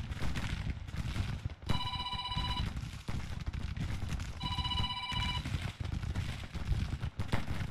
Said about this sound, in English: As the Civil War phone rings.